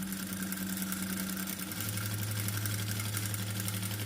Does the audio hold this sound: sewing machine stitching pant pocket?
yes